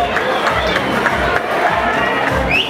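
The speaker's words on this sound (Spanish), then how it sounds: "Fuerte el aplauso para Edison." Crowd cheering and applauding for a contest winner at a 40th birthday party in a disco, a loud, steady wash of shouts, claps and chatter from a packed room.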